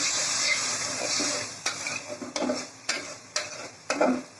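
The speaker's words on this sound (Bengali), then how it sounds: "চামচ জিরার গুঁড়া, দিয়ে মশলাটাকে ভালো করে কষাই।" Cumin powder and spice paste being stirred and fried in hot oil for a shrimp malai curry, a steady close sizzle broken by several sharp spoon scrapes and knocks against the pan, no talking.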